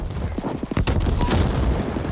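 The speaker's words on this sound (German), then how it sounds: "Hier hinten explodiert doch schon wieder alles." Dense bursts of gunfire and sharp explosions from the sci-fi action game The Ascent crackle in rapid succession, loud and close, with no talking over them.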